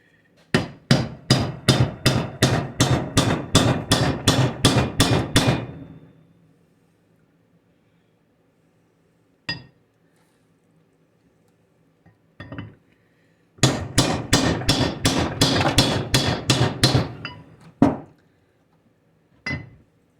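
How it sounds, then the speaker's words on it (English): Rapid series of sharp metallic taps as seals are hammered into an NP205 transfer case adapter, two bursts of about a dozen quick strikes each with isolated single blows between, close and loud. "Normally you can tap them in. I can beat them in with my hand"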